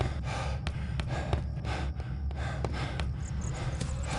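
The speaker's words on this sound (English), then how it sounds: "You can hear him heavily breathing." Heavy breathing from Indiana Jones in an Emperor's Tomb video game, a steady wash of rasping breaths over a low rumbling ambience, with short clicks and knocks scattered throughout.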